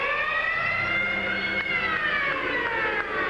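A loud arena siren sounds continuously at the end of a period in a 1980 Stanley Cup quarterfinal hockey game at the Boston Garden, holding a steady wailing tone for several seconds with crowd noise beneath.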